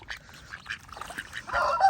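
Ducks and ducklings feeding on bran, giving scattered nasal quacks and chatter close by, growing busier and louder toward the end.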